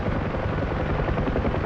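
A helicopter hovers nearby while making nose-in hover turns. Its loud, steady engine roar carries a fast, rhythmic chop of rotor blades that stays constant from start to finish.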